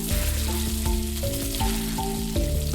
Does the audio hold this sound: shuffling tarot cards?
no